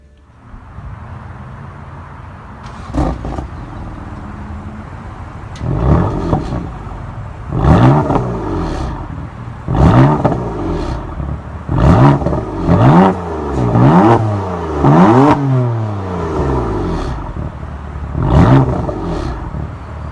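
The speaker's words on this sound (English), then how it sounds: "To start the engine, push your foot down the brake and press the start button located right there." A 2017 BMW M3 engine starts up by push button and is revved repeatedly, each rev rising and falling in loud bursts, with quieter idling between them.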